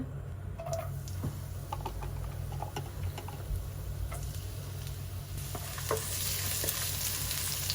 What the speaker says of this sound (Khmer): ខ្ទឹមនេះយើងបំពងឲ្យវាឈ្ងុយ ឲ្យវាឡើងក្រហមសិន